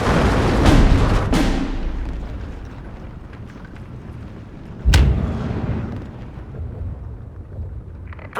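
Artillery fire in the WWII strategy game Steel Division 2, with heavy booming blasts that roll into a long rumbling decay and a second sharp boom midway, loud and close.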